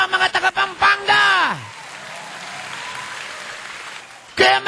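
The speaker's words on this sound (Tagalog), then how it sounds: "Mahinang pumalakpak ang mga taga-Pampanga." Audience applauding at a church sermon, a steady round of clapping for a few seconds after and before a preacher speaking loudly.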